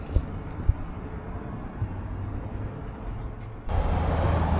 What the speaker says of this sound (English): You can probably hear the noise of the traffic. Lots and lots of traffic on Glenmore.